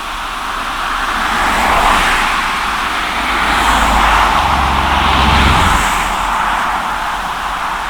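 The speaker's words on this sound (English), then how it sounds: "there's so much traffic on Route 9" Steady road traffic on Route 9 beside a small stream in Vermont's Green Mountain National Forest, cars swelling and fading as they pass, loud broadband roar without a break.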